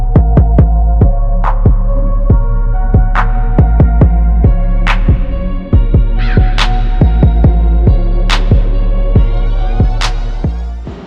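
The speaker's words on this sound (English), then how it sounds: "So let's get to tacking these up." Stainless steel upper radiator hose for a Mk3 being tack welded: a steady electrical hum runs throughout, broken by a dozen or so sharp, evenly spaced clicks and pops from the tacks, close and loud with no talking.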